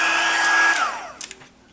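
A hair dryer blows steadily and close on a tissue paper book cover, then switches off and its whine winds down, followed by a few soft handling taps.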